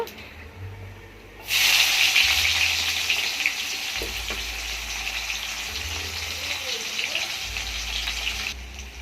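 Onion, ginger and garlic paste hits hot oil on a clay stove with a sudden loud sizzle that starts after a quiet moment, then hisses steadily and slowly eases before cutting off.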